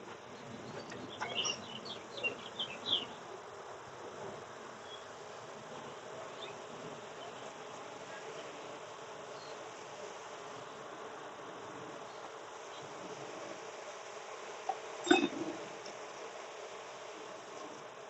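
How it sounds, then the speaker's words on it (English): A swarm of honeybees hums steadily around an opened hive during a farm beekeeping inspection of splits, a soft continuous buzz with individual bees zipping close past the microphone and a few brief clicks and knocks. "Got a lot of bees though."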